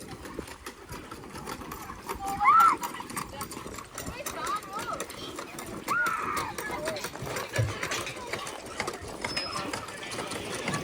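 Horse hooves clip-clop steadily as a horse pulls a visitor wagon at a sunflower farm, with people talking nearby throughout.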